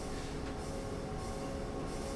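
A passenger train rolling along the track in Train Sim 2015 on the London Victoria to London Bridge line, a steady loud rumble of wheels and carriage noise with no pauses.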